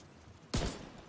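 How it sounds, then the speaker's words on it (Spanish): A loud burst of gunfire from the video game The Division 2 erupts abruptly after a quiet stretch, a dense close volley that lingers briefly before fading. "Escuchando disparos."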